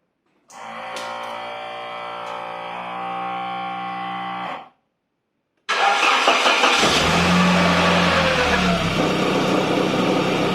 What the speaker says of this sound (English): that horrible noise is the auxiliary belt tensioner jumping around.